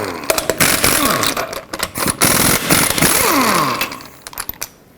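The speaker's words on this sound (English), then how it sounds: "remove all 8 of your lug nuts" Impact wrench with a 22mm socket spinning off the eight wheel lug nuts on a 2003-2021 Chevrolet Express van, several loud bursts of whirring and rattling with brief pauses and clinks between them.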